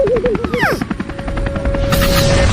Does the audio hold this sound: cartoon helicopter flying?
yes